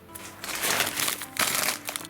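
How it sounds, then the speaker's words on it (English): A plastic bag holding a clock gong for a Sessions banjo wall clock crinkles and rustles close by in short, uneven bursts, with no talk. "Take it out of its plastic bag and tip the two screws out into a tray for easy access"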